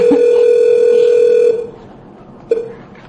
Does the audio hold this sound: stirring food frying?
no